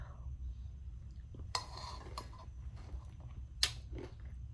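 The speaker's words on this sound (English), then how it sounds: "I'm gonna be just eating my little smoothie bowl" A spoon clinks and scrapes against a bowl while someone eats a smoothie bowl, quiet and close, with two brighter clinks standing out over a low background hum.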